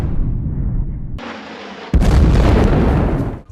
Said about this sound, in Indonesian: karena mau ditembakkan roket tornado